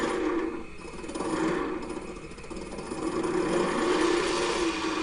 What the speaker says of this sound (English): You're going to hear a bit of a grinding sound here.